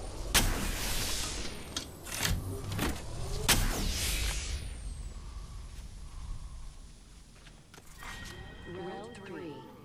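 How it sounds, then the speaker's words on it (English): Shield recharging in a battle royale video game: a rising electronic sweep plays among sharp, loud bursts of game effects that crowd the first half, with a voice speaking over the action. "Recharging my shields."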